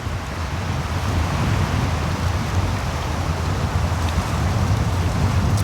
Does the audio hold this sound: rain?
yes